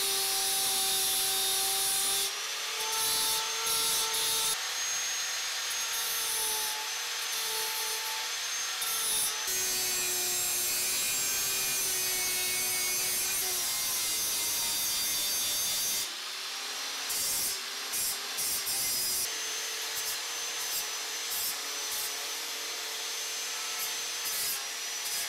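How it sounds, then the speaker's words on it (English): Metal bicycle frame tubing being ground to shape a notch for a tube joint, a steady abrasive rasping that runs continuously with short breaks and shifts in pitch, close and fairly loud with no talking. "Now all I have to do is grind down to that line and I'll have my perfect notch for the tubing match."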